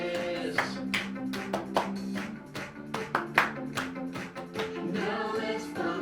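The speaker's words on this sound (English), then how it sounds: "Clap your hands like this." Hands clap along to an upbeat children's song, the claps landing in a loose rhythmic pattern over the music, moderately close and mixed with the singing.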